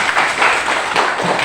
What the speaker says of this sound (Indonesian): Tepuk tangan untuk Kapong.